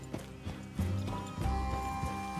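Horses' hooves clop in the video game Red Dead Redemption 2, a few uneven close hoofbeats under a low rumble and a sustained tone.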